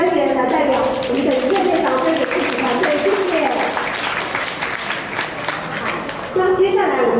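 Audience applause at a watercolour exhibition opening in Taoyuan: a sustained burst of clapping that carries on steadily, with a host's voice speaking over it near the end.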